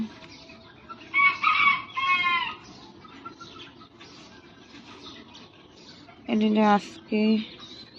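Free-range village chickens in a yard on a quiet morning: a rooster crows in two drawn-out bursts early on and again later, with soft clucking and faint rustling in between.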